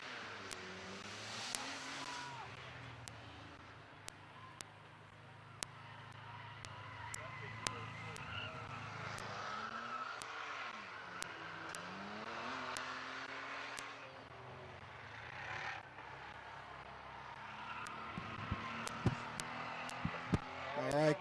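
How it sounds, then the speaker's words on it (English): Stacker cars racing at night on Midvale Speedway, distant engines droning and sweeping past in rising and falling waves, with scattered sharp knocks and an announcer talking over the race. "5 laps in, 5 to go in our stacker car race."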